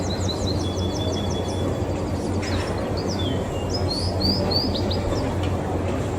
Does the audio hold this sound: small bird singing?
yes